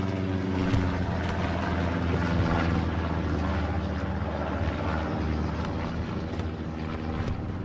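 A recon plane flies overhead during a video game match on the Hurtgen Forest map, its engine a steady, loud droning hum that continues without pause from start to finish.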